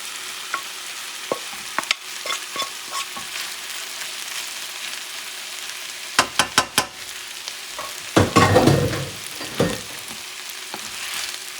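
Rice with chickpeas and sofrito sizzling in a pan while being stirred, a soft steady fry broken by close scraping strokes and a louder clattering burst of mixing.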